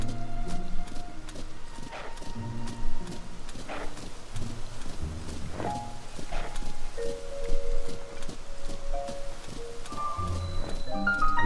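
A horse clip-clops at a quick gait across ground in Zelda: Tears of the Kingdom, its steady hoofbeats close and prominent over light game music.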